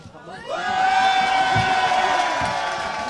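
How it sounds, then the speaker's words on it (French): Party supporters at an election-night gathering applaud and cheer in a dense, sustained roar that swells within the first half-second and holds steady, with a rising whoop or whistle riding above the crowd. "les militants applaudissent"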